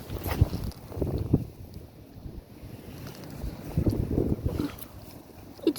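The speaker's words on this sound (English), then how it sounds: "It's so windy today." Gusty outdoor wind buffets the microphone in uneven rushes and swells that rise and fall across the whole stretch, with no talk over it.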